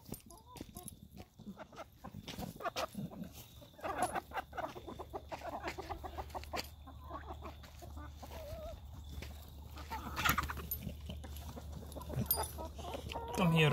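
Chickens cluck and call on a farm, close by and fairly loud, with a steady low rumble running underneath and someone talking over them at times.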